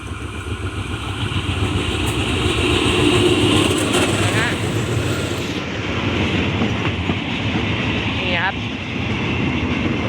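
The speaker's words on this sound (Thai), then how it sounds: "J4540 นะครับทำขบวน 2112 ในวันนี้" A freight train hauled by locomotive J4540, running as a special goods service on the Khlong Luek line, rumbles past steadily for the whole stretch, with rail clatter and wheel noise and a couple of brief squeals.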